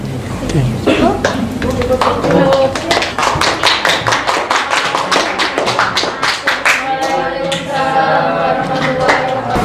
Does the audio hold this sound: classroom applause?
yes